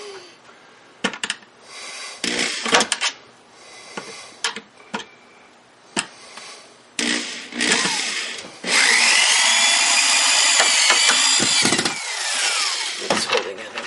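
A power drill drives a screw while a shelf is mounted to a wall, heard as a series of short bursts and clicks followed by a longer, steady whirring run near the end.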